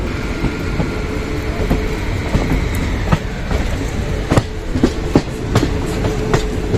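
A passenger train, the 08772 Lalkuan–Durg Summer Special, rolls steadily along the tracks with a constant rumble, wheels clacking at irregular intervals over the rail joints, heard from inside the carriage.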